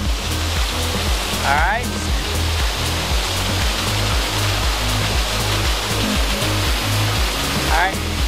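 West Virginia waterfall roaring as a loud, constant broadband rush close by, with people talking over it.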